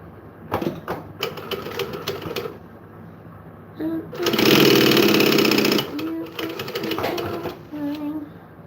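Home sewing machine stitching book-themed fabric with a backstitch, sounding in several short rapid bursts and one longer steady run, close and fairly loud, with a person talking in between.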